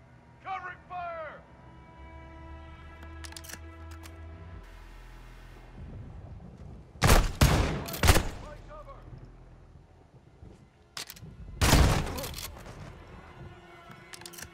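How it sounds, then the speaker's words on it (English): Covering gunfire during a Call of Duty: Modern Warfare II campaign search mission, with two loud clusters of rapid shots around seven and twelve seconds amid background battle noise, after earlier shouted voices. "Covering fire!"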